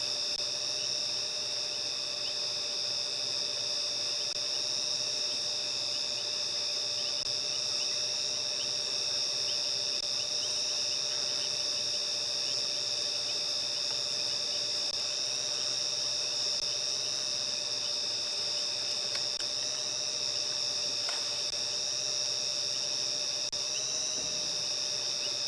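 Cicadas at sunset on a safari drone a steady, high-pitched hum that holds unbroken throughout, joined by a lower continuous insect tone and faint distant bird calls.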